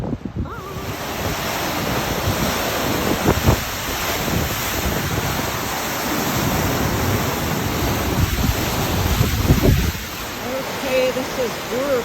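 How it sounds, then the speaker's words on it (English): Waterfall in Iceland, a continuous roaring rush of falling water mixed with heavy wind buffeting the microphone, loud and close throughout, with no speech. "this is Waterfalls in Iceland"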